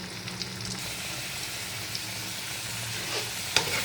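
Potato pieces fry in hot oil in a pan for a fish curry, giving a steady close sizzle with soft crackles and a brief clatter of stirring near the end.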